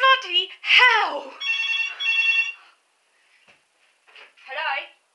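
A telephone rings with a bright, repeated electronic trill in a couple of short bursts, close and loud, with a person speaking over and between the rings.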